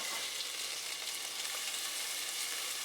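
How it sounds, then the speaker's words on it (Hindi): Vegetables fry in ghee with whole spices for pulao rice, a steady close sizzle with a bright, even hiss that holds throughout, with no voices. "After almost about 2 minutes I have fried vegetable in the ghee."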